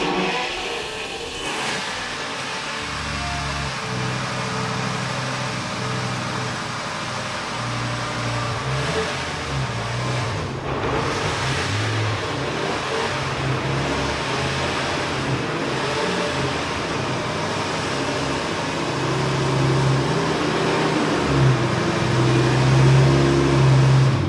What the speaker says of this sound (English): the front wheels will start turning